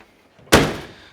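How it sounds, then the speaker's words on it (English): A single solid thunk of a 1969 Chevrolet Chevelle SS-style car door shutting, close by, after a moment of near silence, with a short fading ring. "Door is shut real nice."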